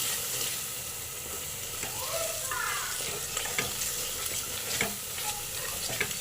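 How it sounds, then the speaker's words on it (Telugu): Masala of turmeric and rock salt sizzles steadily in a pan for a tomato curry, a continuous crackling hiss with occasional stirring scrapes and taps. "ఈ మసాలా 5 నిమిషాలు బాగా పచ్చి వాసన పోయిందాక వేగనిద్దాం"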